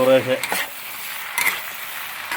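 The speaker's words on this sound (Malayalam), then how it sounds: "നന്നായിട്ട് ഇളക്കി കൊടുക്കുക" A spoon stirring Kerala-style cassava and beef biryani in a pot, a few scraping strokes against the metal over a faint background sizzle, close and moderately loud.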